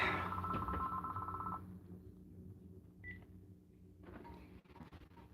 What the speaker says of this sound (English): there goes that phone